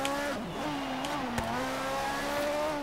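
Ferrari 250 GTO engine in Forza Horizon 3, a steady mid-pitched drone holding in high gear with slight pitch wavering and a brief sharp transient midway, continuous and fairly close.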